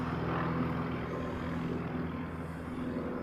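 A Qantas airliner arrives with a low, steady droning engine hum at a distance, faint and continuous without voices.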